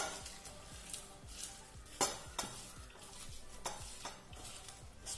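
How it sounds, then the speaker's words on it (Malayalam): Mango curry mixture with coconut oil and salt being squeezed and kneaded by hand, giving soft, wet squelching and rustling in a steady irregular rhythm with a few sharper squishes, close up and fairly quiet, no talking. "ഇനി ഇത് കൈകൊണ്ട് നന്നായിട്ടൊന്ന് ഞെരടണം"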